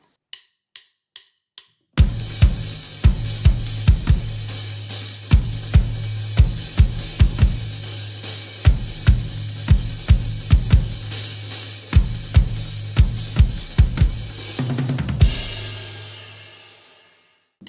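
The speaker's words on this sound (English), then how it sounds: "the floor tom is going to go with at the exact same time as the kick" A drum kit plays a steady beat with floor tom and kick struck together. Four light clicks count in, then loud, evenly spaced booming hits ring out, with cymbal wash on top, and the last one fades away.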